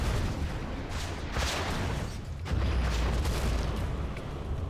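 A Tomahawk missile launch in the war strategy game Command & Conquer: Generals comes as a sustained roaring rush, with heavy booming bursts rising over dense rumbling noise throughout.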